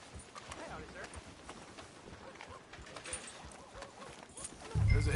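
Steady clip-clop of horse hooves at a walking pace in the video game RDR, with a voice talking over it and a louder thump near the end.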